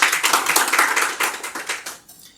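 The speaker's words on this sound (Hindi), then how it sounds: "भाई की बात पे जोरदार तालियां होनी चाहिए।" An audience claps together in a short, dense burst of many hands, loud and close at first, then thinning and fading out within about two seconds, with no voices over it.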